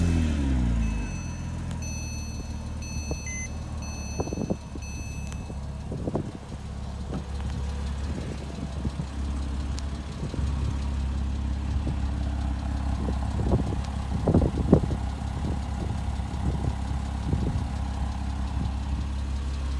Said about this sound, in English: let's start her up, see how she sounds.